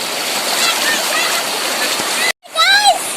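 A strong river current near Bogamati rushes in a steady, loud broadband wash for a couple of seconds; after a brief cutout, a person speaks over the flowing water.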